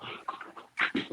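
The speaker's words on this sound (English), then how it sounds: "That's my dog saying hello." A dog pants and huffs close by in quick, uneven breaths, with a few short whimpery sounds mixed in and no talk over it.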